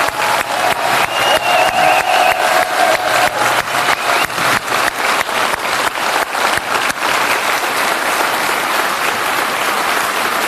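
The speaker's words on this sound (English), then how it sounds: "Please can they stand up and give them a huge round of applause." Loud, sustained applause from an audience at a Brexit Party rally in Newport, Wales, greeting the party's candidates seated in the front row; dense steady clapping fills the whole stretch, with a faint tone heard early on.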